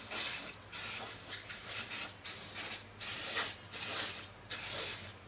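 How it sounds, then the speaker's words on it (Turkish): About seven short hissing bursts of cooking oil spray go into paper muffin cases, each spritz separated by a brief pause, close and fairly quiet. "sprey yağını bu kağıtların içerisine sıkıyorum"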